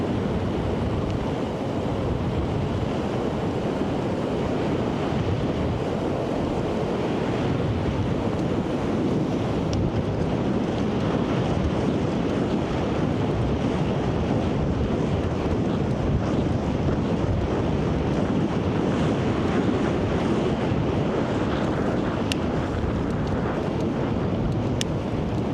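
Wind blows while cycling outdoors in the Arctic Circle near Lakselv, Norway, buffeting the microphone as a loud, steady roar that lasts throughout, with no talking.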